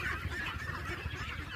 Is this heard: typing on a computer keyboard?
no